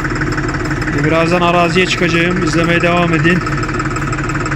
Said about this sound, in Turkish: Çalıştıralım traktörü.